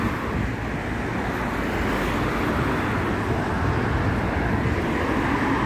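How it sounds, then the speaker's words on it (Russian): Steady street traffic rolls past a bus stop in Poland, a dense continuous roar of passing cars and motor vehicles close by, with no talk. "Вышли только на остановочку и сразу движение."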